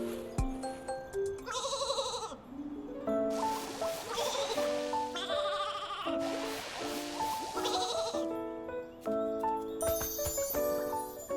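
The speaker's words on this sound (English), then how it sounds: "You may be the cuddliest Flora sheep, but you can't go around causing trouble." Fluffy Flora sheep in the Infinity Nikki video game bleat over and over, several overlapping wavering calls with light jingling, fairly close with a soft music bed.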